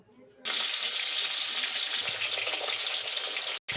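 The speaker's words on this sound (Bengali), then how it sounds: "কড়াইতে তেল দিয়ে দিয়েছি, এবার মাছগুলো আমি ভেজে নেব।" Pomfret fish hit hot oil in a wok and burst into a loud, dense sizzle that continues steadily, with a brief cut just before the end.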